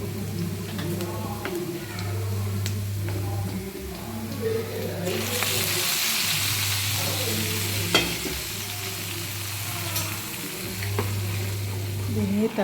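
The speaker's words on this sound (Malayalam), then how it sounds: "ഇതിനി തിളച്ച് നന്നായി കുറുകി വരണം" Ginger tamarind curry made with ginger and green chillies cooks in a pan, giving a steady close sizzle and bubbling. Stirring scrapes cut in now and then over a low pulsing hum.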